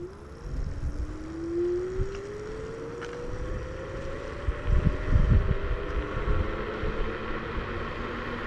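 JOYOR Y6 S electric scooter, rated for 52 km/h, pulling away at full throttle under a heavy rider. A motor whine climbs steadily in pitch over rushing wind and road rumble.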